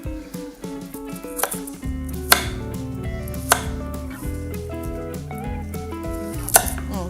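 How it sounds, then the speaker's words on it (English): A knife chops carrots on a cutting board, a run of crisp, close chops with a few sharper hits, heard over background music in a home kitchen. "Just gonna chop these up."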